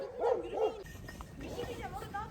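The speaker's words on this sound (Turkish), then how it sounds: "Bizi havlıyor." A dog barks at people during a family outing in a meadow, two quick close barks followed by softer yips and whimpers, with faint talk in the background.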